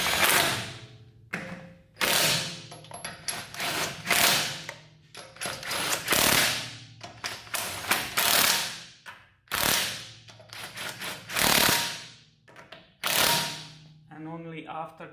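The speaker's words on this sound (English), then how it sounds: "Start putting the lug nuts. In this stage I'm using torque stick to limit the torque on those" Bursts of an impact wrench driving a torque stick onto the lug nuts of a 2009 Toyota Tacoma 2WD front wheel, a series of loud rattling hammering runs separated by short pauses.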